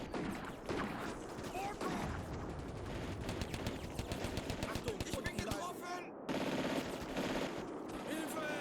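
Gunfire in a pitched battle in the wartime strategy game Combat Mission: continuous rapid machine-gun bursts and scattered rifle shots rattle loudly and densely throughout, with a brief gap before the fire resumes.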